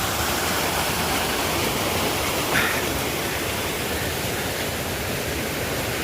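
Rainwater rushing down a stream channel in a hill village, a steady broadband roar that fills the whole clip without pause, with no talk over it.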